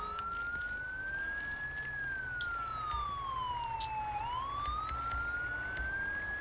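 A wailing emergency siren from a GTA V LSPDFR ambulance arriving, its single loud tone sweeping slowly up and down over steady background rumble, with no talk.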